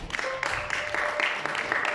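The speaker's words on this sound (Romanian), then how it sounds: "doamnelor, domnilor, cu foarte multe aplauze ai noștri invitați" Audience at a humanitarian concert clapping for the guests, a dense, steady burst of applause heard close and fairly loud for a couple of seconds with no talk.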